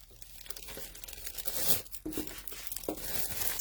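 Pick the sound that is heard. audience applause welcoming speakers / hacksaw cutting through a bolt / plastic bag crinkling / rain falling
plastic bag crinkling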